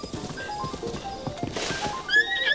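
In The Legend of Zelda: Breath of the Wild, a horse neighs and snorts over a quick clip-clop of hooves, with a louder whinny rising near the end of the brief moment.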